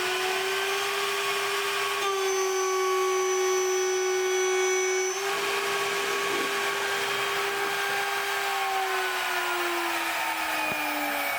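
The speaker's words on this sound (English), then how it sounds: "So that was around the heaviest cut I did with an 8mm tool in aluminum." DMC2 CNC mill making a heavy cut in aluminum with an 8mm tool, machine cover off, a steady loud tonal spindle whine with high cutting harmonics and chip noise, shifting slightly in pitch, continuous and close.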